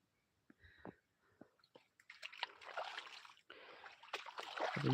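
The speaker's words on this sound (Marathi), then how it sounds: "असं शेतातून पाणी निघत आहे" Rainwater drains out of a waterlogged three-acre cotton field, a soft rushing and splashing flow that starts after a few faint knocks and builds into a steady, fairly close wash.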